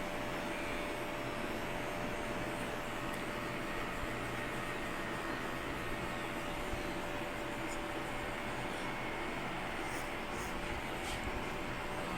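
An electric hair clipper hums in a steady, unbroken drone as it cuts hair in a barbershop, close and constant throughout.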